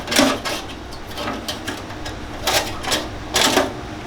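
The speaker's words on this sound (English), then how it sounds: "Dremel with the brass wire wheel" A Dremel rotary tool with a brass wire wheel scrubs old gasket material off the burner of a Rinnai non-condensing tankless water heater, making short bursts of buzzing, scratching grinding that recur in quick pulses.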